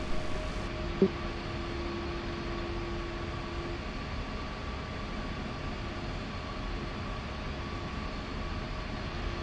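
A-10 attack jet taxiing toward the runway in a combat flight simulator, a steady broadband engine whine and rumble with faint tonal hums holding level throughout, one brief click near the start and no talking.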